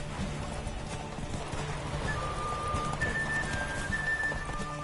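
Galloping horse hooves in The Witcher 3 on PS4, a mare ridden in a race: rapid, steady clip-clop beats close by, continuous under a faint thin whistle-like tone, with no talk.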